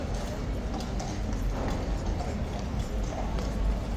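Horse hooves clip-clopping on a street near a lady trooper and tourists, a steady rhythmic clatter of several hoof strikes under a busy outdoor crowd murmur.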